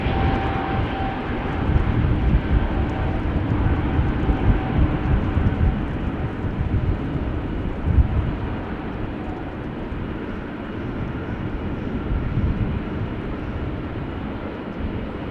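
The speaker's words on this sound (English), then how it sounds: "Bulgaria Air is taking off to Sofia. Bombardier C-Series 300, A220." A Bulgaria Air Airbus A220-300, the former Bombardier C-Series 300, takes off at Amsterdam Schiphol bound for Sofia, its broad jet roar steady and loud throughout with a slight swell near the middle, heard without any voices.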